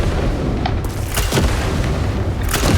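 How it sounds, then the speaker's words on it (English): Three missiles striking composite armor in a video game, a heavy booming impact followed by a couple of sharper explosive bursts, loud and close over a continuous rumbling background. "this is 3 missiles, like they're all shooting in perfect sync"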